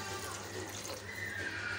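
Water pours steadily into a pot of raw rice, semolina and moong dal, making a continuous, fairly quiet splashing trickle at close range.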